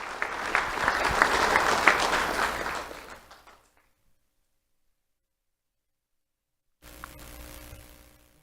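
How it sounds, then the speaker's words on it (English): An awards-ceremony audience claps warmly for about three and a half seconds, fading out into silence, and a softer burst of sound returns near the end. "Let's have a round of applause for Peyton and Madison Hart."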